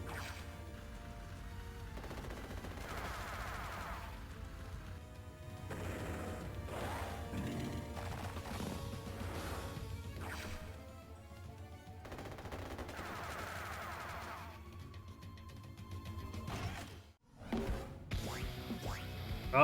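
Units open fire in the turn-based war game Advance Wars: Days of Ruin, with repeated rattling bursts of gunfire and crashing impacts laid over steady background game music, stopping briefly near the end.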